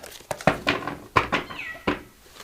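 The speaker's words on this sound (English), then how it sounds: "You can hear my cat in the hallway there." A house cat meows in a hallway, a few short mid-pitched calls spaced across a couple of seconds, faint and somewhat distant, with light household clatter around them.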